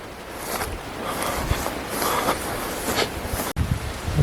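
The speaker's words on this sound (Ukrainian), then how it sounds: "Тільки я сюди зайшов, почався сильний вітер." Strong wind roars and buffets steadily across the whole stretch, with gusty surges and rumbling low-end noise, no talking.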